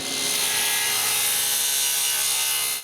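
A table saw making a 45-degree mitre cut in wood, its blade at full height whining with a steady, loud high-pitched roar that holds throughout without pause.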